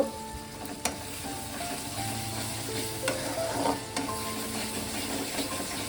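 Kasuri methi and spices frying in a pan for chana masala, a soft constant sizzle with a few sharp spoon taps and stirring scrapes close by.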